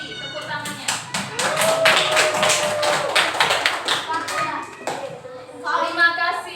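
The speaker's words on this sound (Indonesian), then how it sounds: "Kasih apresiasi dulu untuk Naura dan Hesti. Tepuk tangannya." Schoolchildren in a sixth-grade classroom clap their hands in brisk applause, a dense burst of claps lasting several seconds, with a teacher's voice and children's speech over and after it.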